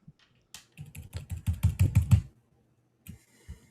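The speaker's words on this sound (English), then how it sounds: "I hear you typing." Quick burst of keyboard typing, a dense flurry of close key clacks lasting under two seconds, then a pause and a couple of stray taps; no voices.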